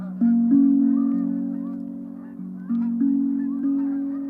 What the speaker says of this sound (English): Look at all those geese taking off over there.